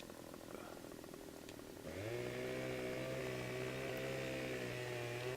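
A chainsaw cutting through a tree trunk in Farming Simulator 17, a steady buzzing engine whine that starts abruptly and holds loud and constant over a low background hum.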